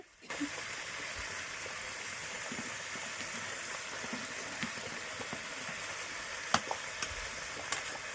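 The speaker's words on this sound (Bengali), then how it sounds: "মশলা দিয়ে ভালো করে কুমড়োটা আর কি কষিয়ে নিচ্ছে" Pumpkin fries with spices in a pan, giving a constant, even sizzle that fills the whole stretch, with a few faint scrapes and taps from stirring.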